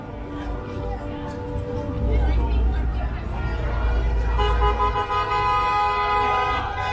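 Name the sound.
car horns honking at trucker convoy protest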